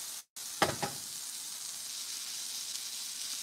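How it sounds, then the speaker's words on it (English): Walleye fillet frying in a pan gives a steady, soft broadband sizzle throughout, with a brief dropout near the start and a couple of small crackles just after. "Look at that sizzle."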